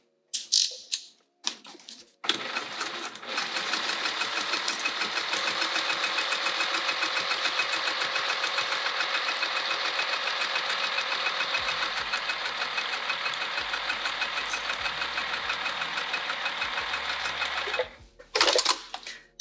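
Sewing machine basting around the perimeter of a vinyl bag piece, a steady fast needle rattle running continuously for about fifteen seconds, close and loud, with brief handling noises before and after.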